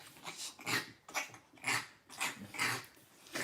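An old dog makes repeated throaty, rasping throat-clearing noises in short bursts, close by and fairly quiet, with no talk over it.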